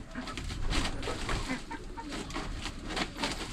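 Backyard chickens nearing laying age clucking and cooing, several soft overlapping calls in a steady, busy flock chatter, fairly close but quiet.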